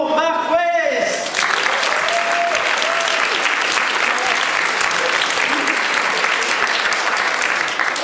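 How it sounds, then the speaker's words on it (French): Loud, dense audience applause for Mark Weiss, who plays the 11th Doctor, at a Doctor Who fan convention evening. The clapping breaks out after a second and holds steady and full for the rest, with cheering mixed in. "Je vous demande un tonnerre d'applaudissements pour Mark Weiss."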